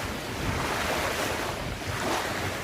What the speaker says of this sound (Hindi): पानी में इस तरह की वेव्स उठ रही हैं कि जैसे ओशन में उठती हैं